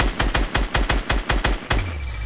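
Video game gunfire: a rapid burst of about ten loud, evenly spaced shots, close and punchy, ending in a final heavier blast with a lingering low rumble.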